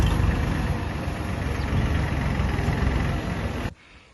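A tractor engine runs steadily while packing down a pile of chopped corn silage, a dense, continuous low rumble close by that cuts off abruptly near the end.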